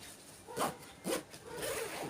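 A zipper on a handmade fabric bag is pulled in two or three short rasping strokes, close and fairly soft, with no speech.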